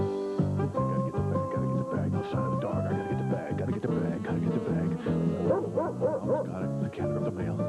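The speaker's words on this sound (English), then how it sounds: "there's that dog" A dog barking and yipping in quick bursts, fairly close, mixed with an upbeat musical background and a voice talking over it.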